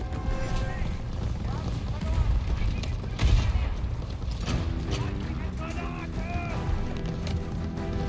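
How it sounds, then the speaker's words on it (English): Gunfire and explosions in the Call of Duty: Vanguard video game, loud dense bursts of shots and booms over a continuous rumble of battle. "Who keeps shooting me over there?"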